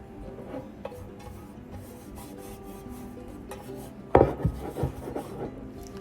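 Bread dough is scraped and pressed into baking pans in a kitchen, giving soft rubbing and scraping sounds, followed by a few louder knocks and clatters of the pans near the end.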